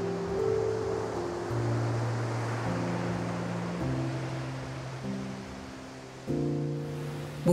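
Ocean waves break on a sandy beach as a continuous, moderately loud surf wash, with soft tonal music underneath.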